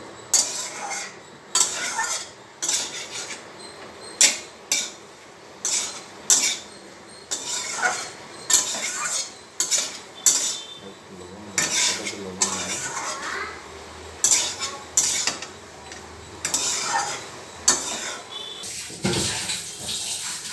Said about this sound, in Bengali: এবারে আমি সমস্ত ভাজা সবজি এবং পাস্তা সব অ্যাড করে দেবো এর মধ্যে সব কিছু অ্যাড করে দিয়েছি এবারে নাড়বো